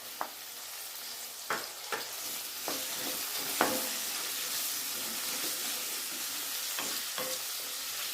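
Chopped ginger, garlic and green chillies sizzle steadily in hot oil in a pan, with a few sharp knocks and stirs from a spoon now and then, close and continuous, no talking.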